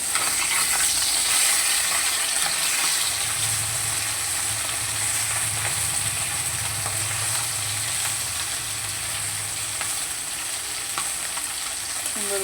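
Small puti fish, just turned over, sizzle and crackle steadily in hot oil in a pan, with a continuous close hiss and some faint stirring and scraping noises, no voices.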